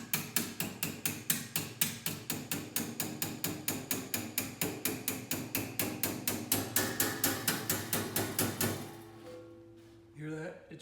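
A hammer tapping a hinge pin into the wooden box of a vintage Skilsaw 825, giving about forty quick, evenly spaced close taps that stop near the end, followed by a short bit of talking.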